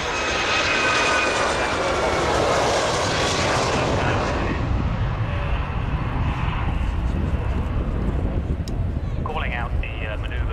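An RNZAF Boeing 757-2K2 jet makes a low display pass, its loud engine roar sweeping close and steady throughout, with wind buffeting and a commentator talking over it.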